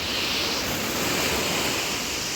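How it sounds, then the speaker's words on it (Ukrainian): Sea waves wash onto the beach at Side, Turkey, a steady loud roar of surf with constant broadband hiss and no voices. "А хвилька, мені здається, трохи вже така більша стала."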